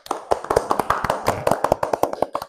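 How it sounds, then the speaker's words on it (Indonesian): A classroom of students claps together, a dense burst of many overlapping hand claps with an uneven rhythm, loud and sustained for a couple of seconds. "Oke, tepuk tangan dulu."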